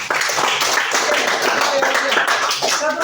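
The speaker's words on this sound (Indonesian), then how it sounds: "Kita beri tepuk tangan buat Olivia." Classroom clapping for a student: a short burst of claps from a group, mixed with voices talking over it throughout.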